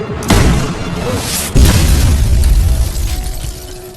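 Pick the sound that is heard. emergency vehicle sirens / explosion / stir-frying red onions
explosion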